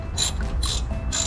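A ratchet wrench tightens a wheel bolt on a 2014 Honda Civic during a brake rotor replacement, giving three short, close clicking bursts with brief pauses between them.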